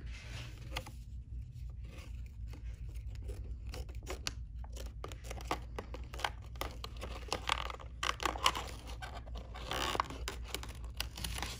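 Scissors cutting through three layers of fabric along a basting stitch to shape chenille palm tree leaves, giving steady close snipping and rustling over a low background hum, with no talking.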